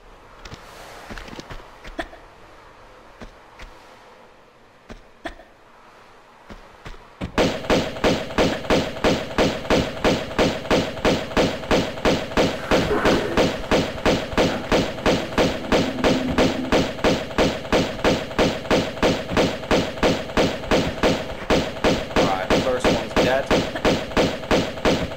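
Rapid, evenly spaced pistol gunfire from the video game Tomb Raider II Remastered, a quiet stretch then a loud continuous run of regular shots lasting about eighteen seconds over game background sound.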